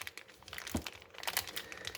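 A plastic bag wrapping a 1/4-inch drive ratchet crinkles and crackles in quick, irregular bursts, close and soft, with no talk.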